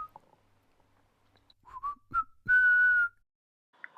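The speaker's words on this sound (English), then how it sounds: "it began to whistle a walking tune that made the going very pleasant" A voice whistles a short, bright walking tune for the talking bone, a few separate chirpy notes rising to one longer held tone, close and clear against near silence.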